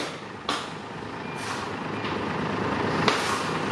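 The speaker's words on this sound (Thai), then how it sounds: "อ่า นี่นะ เบรกแห้งครับ เบรกแห้ง" A low-slung ten-wheel truck with full air brakes and a six-cylinder J08E engine lets out several sharp hissing bursts of air over a steady engine rumble, heard close and fairly loud.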